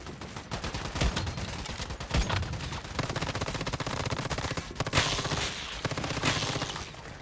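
Enemies fire guns in the video game Once Human, rapid automatic bursts rattling almost without pause, loud and close, with a few heavier shots standing out through the stretch.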